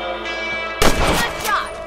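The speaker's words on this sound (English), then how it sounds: "You're better at shooting rabbits than outlaws, I think." A single loud gunshot in Red Dead Redemption while shooting rabbits from horseback. It rings out over a steady bed of game music and ambience.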